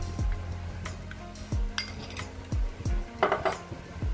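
Flour-coated tutti frutti is mixed into cookie batter in a bowl, producing soft rhythmic thuds of the utensil against the bowl, roughly twice a second, with light metallic clinks and scrapes in between.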